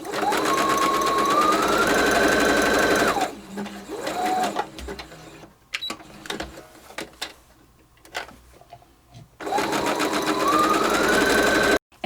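Sewing machine stitching along the edge of a fabric napkin, two loud sustained runs of rapid whirring separated by quieter clicks and handling of the fabric.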